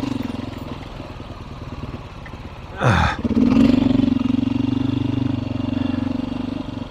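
A Beta 390 dirt bike engine idles steadily, then revs sharply once about midway and settles back to a loud, even idle nearby, with a brief voice near the start.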